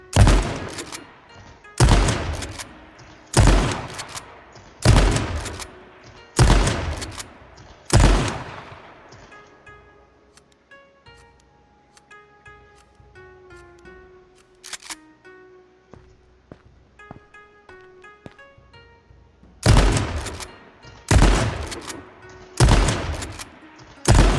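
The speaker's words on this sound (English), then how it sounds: "the shotgun is pretty precise, so I'm just gonna shoot 2 mags." Shotgun in the video game H1Z1 fires two magazines: two bursts of loud, evenly spaced booming shots, about five in each, separated by a quiet gap with soft game music.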